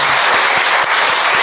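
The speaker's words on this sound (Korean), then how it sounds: "우리 박수로 감사합니다" A church congregation bursts into loud, dense applause during a Sunday worship service, welcoming a missionary couple, with steady clapping filling the room throughout the short burst.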